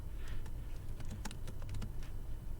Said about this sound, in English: we're going to go ahead and type in here